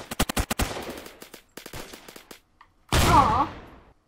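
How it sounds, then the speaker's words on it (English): Gunfire in Roblox Phantom Forces: a rapid burst of sharp shots, a few scattered single cracks, then one loud booming sniper shot with a ringing tail near the end. "Oh, had a sniper shot."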